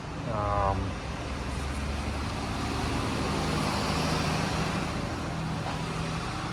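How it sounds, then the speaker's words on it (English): A truck drives past on a nearby road, a broad rumbling wash of traffic noise that swells briefly and then holds steady, heard outdoors during brake work on an Audi A1. "Just got a truck going by there."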